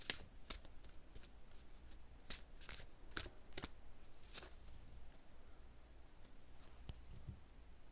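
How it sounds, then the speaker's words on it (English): Tarot cards being shuffled by hand during a pick-a-card reading: repeated crisp riffling snaps and soft card slides in an uneven rhythm, close and fairly quiet, with no voice. "I'm going to give them a little bit of an extra shuffle"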